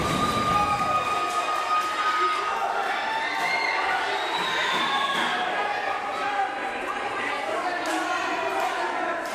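A loud wrestling crowd in an arena cheers and shouts without letup, a dense roar of many voices with a few thuds from the ring underneath.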